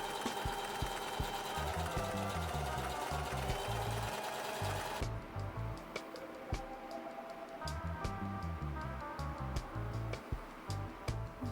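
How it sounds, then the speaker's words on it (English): A sewing machine stitching the lining into a crocheted granny square bag runs in close, rapid rhythmic bursts, pausing and restarting several times, with a bright whirring hum over the stitching. "now I think I'm going to try to sew the lining in using my sewing"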